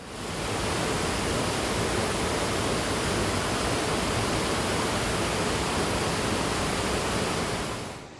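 Monsoon floodwater rushes through small streams and channels in Dwarka, a dense, steady, loud roar of water that continues unbroken throughout.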